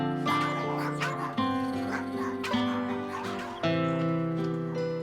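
Many dogs at a home sheltering about 300 of them bark and yip in overlapping bursts, loud and close, with repeated sharp onsets over a sustained chorus.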